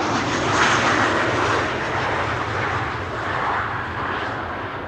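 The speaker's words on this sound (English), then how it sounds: "arriving here on runway 27 is KLM flight 1800, arriving from Düsseldorf" A KLM airliner landing on runway 27 at Amsterdam Schiphol, arriving from Düsseldorf, gives a broad, loud jet roar that holds steady and slowly eases off, with no talk over it.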